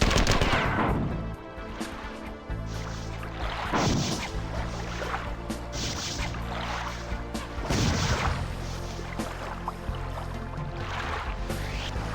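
Assault rifle firing in the video game Marathon 2, repeated loud bursts of shots in uneven clusters, each cracking out over a droning, tonal game soundtrack.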